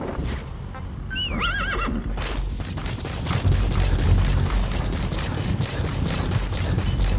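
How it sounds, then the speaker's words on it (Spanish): Horse in the video game Metal Gear Solid V: The Phantom Pain, a clear rising-and-falling whinny early on, followed by heavy hoof clops and rumbling movement that grow louder. "Quítate, pinche caballo."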